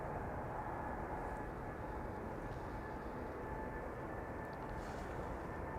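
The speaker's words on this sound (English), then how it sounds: "we have Delta Airlines Flight 91 spooling up here" Delta Airlines Flight 91, bound for Orlando, spools up its jet engines on the runway threshold at Amsterdam Schiphol Airport. The result is a faint, steady, distant broadband rumble that stays even throughout.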